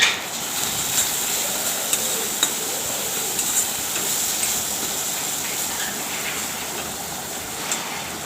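Ground spices such as turmeric, cumin, coriander and chili powder are stirred through a sizzling frying pan for a crispy chatu recipe, a steady close hiss with light scraping clicks of the spatula throughout.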